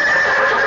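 A horse whinnies in a single loud, sustained neigh with a steady shrill tone, heard alone with no talk over it as a comedy sound effect.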